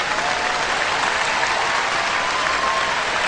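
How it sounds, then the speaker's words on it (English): Dense, steady applause from a comedy show audience, many hands clapping at once in a continuous even wash that holds its level throughout. "Please put your hands together for yourselves. Everybody here, clap the way you feel about yourself."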